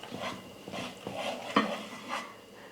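Gram flour is stirred into ghee in a pan on the stove, with soft, quiet scraping and gentle knocks of a spoon repeating in an uneven rhythm and one sharper clink midway.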